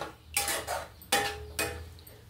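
A spoon stirs a Telugu tamarind curry of round bitter gourd in a metal pot, giving a few distinct scraping clinks against the pan with short pauses between them, fairly close and with no talking.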